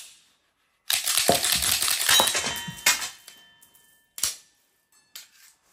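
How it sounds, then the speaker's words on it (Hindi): Rounds ejected from a pistol magazine fall with a metallic clatter, a burst of jingling impacts followed by a few separate sharp clinks and a short pause, close and clear without speech. "तो अब हम इसकी ना 8 गोली एजेक्ट करके देखेंगे।"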